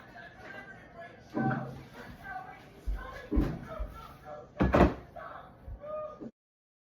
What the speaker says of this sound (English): Bad habit of leaving cupboard doors open.